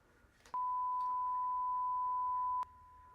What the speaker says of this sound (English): every time I say Marquette, we're going to be beeping Marquette out